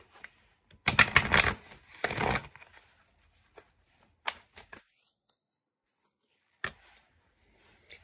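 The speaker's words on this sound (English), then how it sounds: "Let's pull some Oracle cards for you." Oracle cards being shuffled by hand during a tarot reading: a dense, close riffling burst lasting about a second and a half, then scattered light taps and card flicks in an otherwise quiet room.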